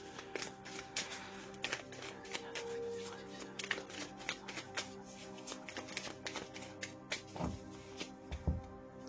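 Tarot cards shuffled by hand give repeated soft riffles, slaps and sharp snaps in an uneven rhythm, with faint speech at times in the background.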